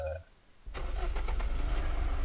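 A car engine in the Unturned video game cranks and catches after a quiet moment, then runs at a steady, loud idle that fills the rest of the stretch.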